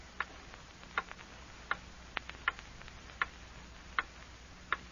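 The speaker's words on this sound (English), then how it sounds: "Hear that clock?" A clock ticks steadily alone in a quiet room, each sharp tick about three-quarters of a second apart, close and clear over faint background hiss.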